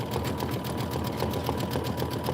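Sewing machine running an outline stitch, a steady dense mechanical whir with fine rapid needle pulsing, close and continuous throughout.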